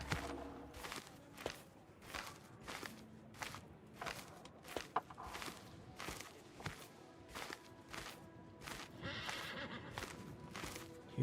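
Light cavalry horses in the strategy game Crusader Kings III: repeated clip-clop hoofbeats and whinnies in a steady rhythm, fairly close, with occasional neighs and faint background ambience, no talk heard.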